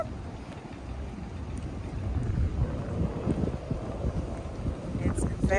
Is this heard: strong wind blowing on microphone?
yes